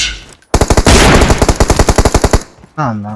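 Rapid automatic gunfire from a PUBG Mobile match, a loud burst of evenly spaced shots lasting about two seconds, followed by a short tonal game sound effect; a voice speaks briefly.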